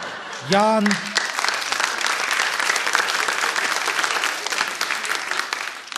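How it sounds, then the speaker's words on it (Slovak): Crowds cheering and clapping along a May Day parade route in Žilina, a dense, sustained wash of applause after a brief vocal shout at the start, steady and fairly close. "a davy jasajú"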